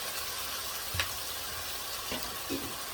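Ginger stir-frying in a pan for a sweet ginger dish gives a steady sizzle, with a few soft clinks of a utensil stirring at close range.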